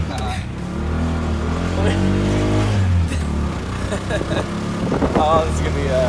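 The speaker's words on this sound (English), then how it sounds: "We're in like a three-wheeled cart." Small three-wheeled cart engine droning steadily from up close throughout a ride in Guatapé, Colombia, its low rumble rising slightly as it pulls, with voices talking and exclaiming over it.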